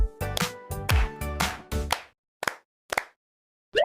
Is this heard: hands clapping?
yes